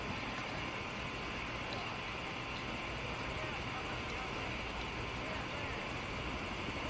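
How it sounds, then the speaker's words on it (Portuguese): A helicopter in the Metal Gear Solid 5: The Phantom Pain video game drones with a constant, dense rotor and engine roar, steady and close for the whole stretch. "Tô esperando o helicóptero."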